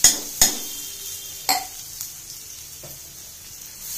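Onions just added to a pan for mushroom curry: a few sharp clanks of a utensil against the pan, then a soft, faint sizzle continuing underneath, with no talk.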